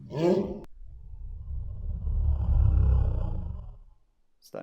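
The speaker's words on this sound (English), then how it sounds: "Starting to sound like a dinosaur." A deep, slowed-down growl rumbles low and loud for several seconds, sounding like a monstrous roar, after a brief higher bark-like burst at the start.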